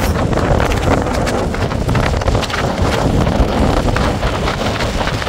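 Strong mountain wind buffeting the microphone in a continuous loud roar with gusty rumbles throughout, no voices heard.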